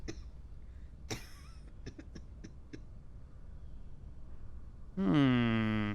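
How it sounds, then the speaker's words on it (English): A few short, dry coughs in a quiet setting in the game Quarantine Zone, then a loud tonal sound starts abruptly near the end. "You're sneezing, you're coughing."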